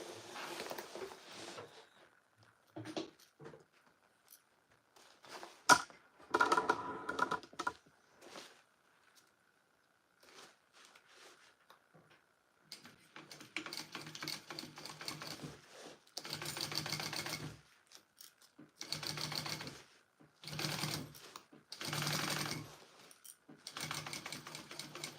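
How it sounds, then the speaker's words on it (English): A sewing machine stitches an Oxbow Tote bag in scattered bursts of rapid mechanical chatter. Short early runs give way to longer repeated runs later, with near silence between them. "I'm gonna sew that first."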